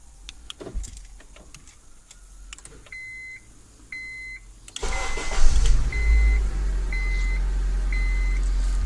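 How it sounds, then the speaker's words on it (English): A 2006-2011 Honda Civic starts by remote: faint clicks and two short electronic beeps, then the engine cranks and catches, settling into a steady idle hum while the beeps repeat in a regular pattern over it. "The vehicle has successfully started."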